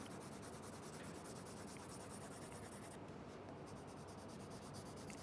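Steady, continuous scratchy rubbing of a coloring pencil laying down a dark base color on a cube drawing on paper, close and even throughout, no voices.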